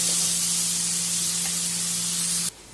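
Tomatoes sautéing in a pan for paruppu urundai kulambu, a dense steady hiss of frying that holds evenly and then suddenly cuts off near the end.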